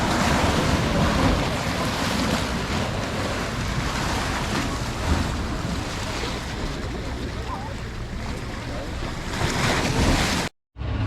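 Choppy ocean surf at Key West's Southernmost Point washes in a continuous loud roar, mixed with heavy wind buffeting and a brief dropout near the end.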